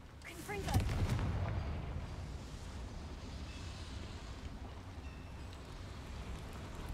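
In the Hogwarts Legacy video game, a Confringo blast spell bursts with a sudden booming explosion. A low rumbling tail then fades slowly into quiet ambience.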